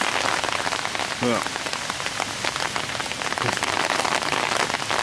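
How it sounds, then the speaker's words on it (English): Hailstones falling steadily on a carp-fishing bank, a dense, constant patter pelting nearby surfaces and an umbrella, loud and unbroken with no talk. "Weather conditions have taken a bit of a turn for the worse. Got hailstones,"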